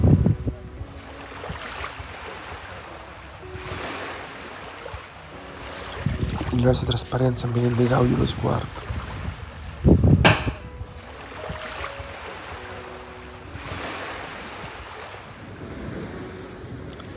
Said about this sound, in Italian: Mi piace ascoltare il rumore del mare,